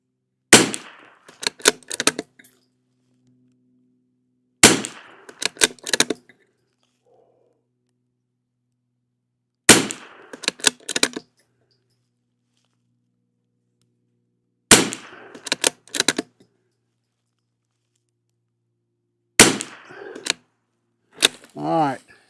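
Rimfire rifle shots from CCI SV rounds crack in tight bursts of three to five, repeated in five groups separated by several seconds of quiet, loud and close.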